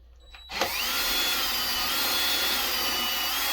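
A power drill bores into a wooden kitchen cabinet during a renovation, spinning up abruptly and then holding a loud, steady whine close by with no talking.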